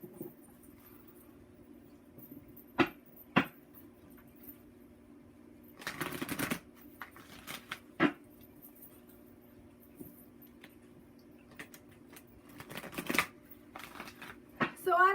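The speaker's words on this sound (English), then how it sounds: "while I'm shuffling these cards, give them a good shuffle again" A deck of tarot cards is shuffled in short bursts of riffling and flicking, soft and close, separated by quiet gaps with faint background hum.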